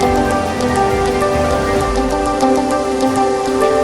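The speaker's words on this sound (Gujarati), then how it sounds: "ભાવનગરમાં ધોધમાર વરસાદ" Heavy rain pours steadily in Bhavnagar, India, during flooding, a dense loud hiss of drops hitting surfaces with no break.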